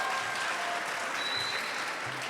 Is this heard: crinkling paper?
no